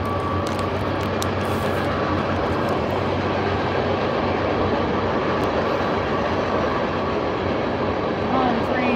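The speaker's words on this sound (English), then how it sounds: "They can still hear me over the train." A passing train rumbles steadily and loudly nearby, a dense broadband roar with faint clatter and a brief high squeal near the end.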